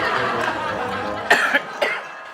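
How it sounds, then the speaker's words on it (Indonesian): Temon lets out a few short, sharp coughs in a row, close and distinct over a low background hum. "Ini cuma batuk biasa."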